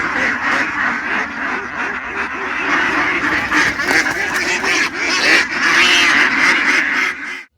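Country ducks quack loudly and close at a pasture, a dense overlapping chorus of calls that runs continuously with no talk.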